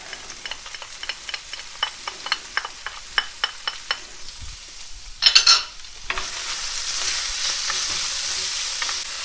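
Onion and garlic go into a pan for a roast chicken stuffing. A run of sharp spoon taps and clicks comes first, then a quick clatter, then a steady hissing sauté that keeps going, close by and with no talk.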